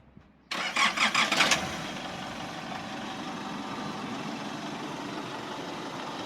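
A Nissan Navara Calibre pickup's engine cranks with a rapid series of loud, rhythmic starter chugs for about a second, then catches and settles into a steady, moderately loud idle that runs to the end.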